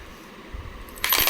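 Indian five-rupee Biju Patnaik commemorative coins give a bright metallic clink as they are handled, one sharp burst near the end after a quiet stretch.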